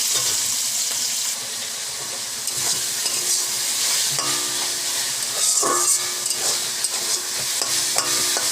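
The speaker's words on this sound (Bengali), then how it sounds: "তেল গরম হয়ে গেছে, দিয়ে দেব এর মধ্যে কাঁচা চিকেনটা" Raw chicken marinated in chilli, turmeric, ginger and garlic fries in hot white oil, giving a steady, close sizzle broken by scraping and knocking as it is stirred, with no talking.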